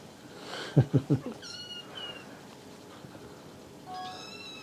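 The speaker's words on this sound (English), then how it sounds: "I've got a kitten on my lap, and I've got a kitten behind me." Several kittens meow in short high cries, with a few soft thumps and quiet gaps between calls, close by in a calm indoor room.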